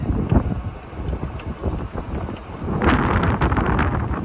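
Wind rushes past during an evening golf cart ride at an RV campground, a loud, continuous buffeting roar that swells stronger toward the end, with no talk.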